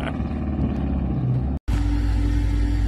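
A vehicle's engine rumbles loudly while driving through a yard, dropping out for a split second during a gear change before the low drone resumes.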